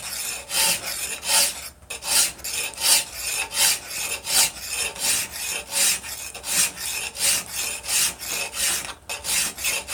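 A metal hand file rasps back and forth against a workpiece clamped in a vice, steady rhythmic strokes about two per second, close and loud with no talking.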